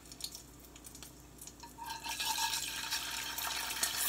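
Liquid is poured in a kitchen while eggs are being cooked, starting as quiet trickles and drips, then swelling into a steady, bright splashing pour in the second half.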